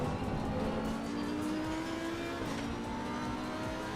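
Ferrari race car engine in a racing video game, a sustained high engine whine that rises steadily then drops with a gear change, loud and continuous with no talking.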